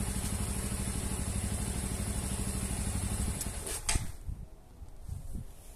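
A Bajaj Boxer 150 motorcycle with a cold carburetor idles loudly and steadily up close with a fast, even pulse, then stumbles and dies away after a few seconds.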